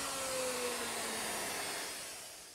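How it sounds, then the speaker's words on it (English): A router fitted with a 3/8 inch spiral cutting bit whines loudly as it cuts a mortise, a steady high-pitched roar heard alone that tapers off at the end. "I've set up my router with a 3/8 inch spiral cutting bit."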